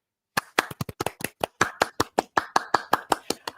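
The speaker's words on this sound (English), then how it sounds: "let's go ahead and give a round of applause for Roy" A single pair of hands claps as a round of applause, about twenty sharp, close claps in a quick, slightly uneven rhythm with no voices.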